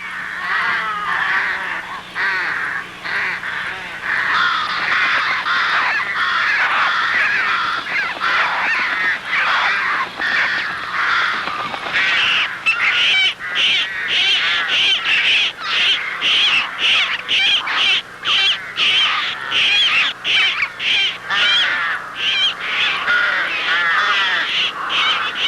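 Rooks caw loudly and continuously at a nest, a dense chorus of harsh calls that quickens into rapid repeated caws toward the end, near and without talk.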